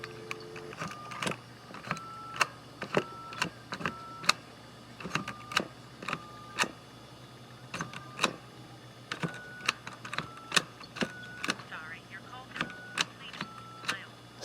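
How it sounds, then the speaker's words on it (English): Keys are pressed on a vintage Western Electric 2554 pushbutton wall telephone with faulty, dirty contacts, giving a run of sharp clicks, each followed by a short steady tone, some of the tones broken or warbling, recorded close. "If I put the camera right by the phone and start dialing a number,"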